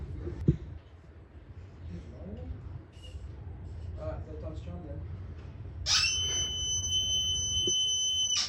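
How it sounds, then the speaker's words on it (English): An electronic fire alarm in a library suddenly sounds as a prank, a loud, steady high-pitched shrill tone with a pulsing overtone that starts partway through after quieter background chatter and keeps blaring to the end. "I have a fire alarm, fake fire alarm prank"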